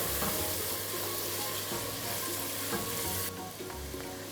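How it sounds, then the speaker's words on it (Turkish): Steady frying sizzle of tomatoes cooking down in a pan, with occasional stirring scrapes, continuous and close without any talking. "Domateslerimiz biraz sulanıp sos kıvamına gelene kadar pişirme yapıyoruz."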